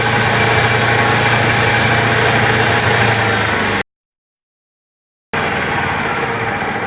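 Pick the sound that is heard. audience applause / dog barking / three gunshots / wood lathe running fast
wood lathe running fast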